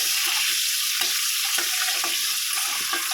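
Eggs from desi chickens fry in oil in a pan with a steady, close hiss, broken by a few soft crackles and stirring clinks. No one speaks.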